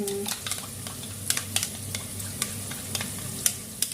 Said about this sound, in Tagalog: Hayaan po muna natin siyang mag-brown ng konti.